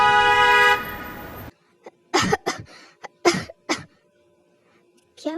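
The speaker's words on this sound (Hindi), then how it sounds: "मेरे आते ही तुम्हें खांसी आ गई?" Several sharp, close coughs come in an irregular cluster of bursts right after a long car horn blast cuts off, with brief pauses between them and no talking.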